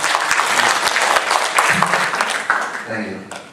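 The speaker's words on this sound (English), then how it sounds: "Okay, a big applause for her." Sustained applause fills an auditorium at a doctoral open defense, dense clapping from a large audience that holds steady and then tapers slightly toward the end.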